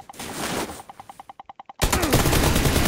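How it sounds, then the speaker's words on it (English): Gunfire in the video game PUBG, a rapid automatic burst of about ten evenly spaced shots, then a sudden loud blast of dense noise close by. "There's a lot of shots coming from the north."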